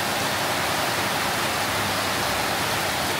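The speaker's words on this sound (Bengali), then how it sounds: "আরও অনেক জোরে বৃষ্টি চলে আসছে, একবারে মুষলধারে" Heavy torrential rain pours down in a dense, continuous hiss, loud and unbroken, with no voices over it.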